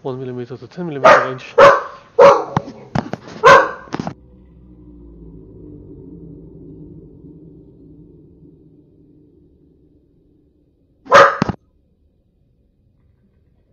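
A dog gives four loud, sharp barks close by, then a low rumbling hum fades out, followed by one more bark after a pause. A voice speaks briefly among the barks.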